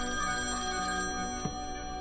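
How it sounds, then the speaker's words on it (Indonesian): A telephone rings in a film, a steady electronic ring held at even loudness across the short stretch, with no talk over it. "Tiba-tiba telepon kembali berdering."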